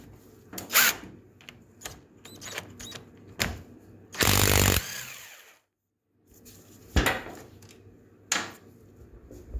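A 14mm bolt is worked loose with a socket tool on the lower ball joint of a Kymco MXU550 ATV, giving several sharp metallic clicks and one sustained rattling burst of a powered tool, separated by quiet gaps.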